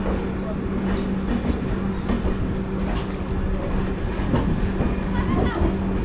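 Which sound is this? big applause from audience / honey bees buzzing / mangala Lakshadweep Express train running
mangala Lakshadweep Express train running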